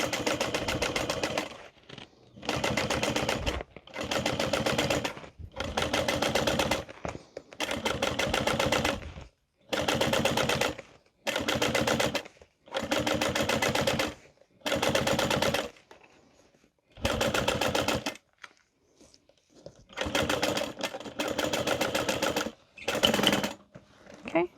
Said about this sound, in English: you're going to top stitch through the upper lining and the seam allowance